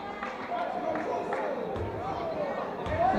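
Crowd noise fills a high school boys' basketball gym during a close game, a steady hubbub of chatter and shouts with a few brief louder swells, running the whole time under the action.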